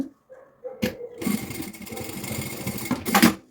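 A domestic sewing machine stitches a holding seam along the edge of a preschool backpack with a front pouch. A few seconds of close, rhythmic mechanical whirring and clatter follow some brief handling noises at the start.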